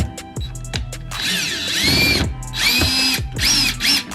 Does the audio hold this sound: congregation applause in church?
no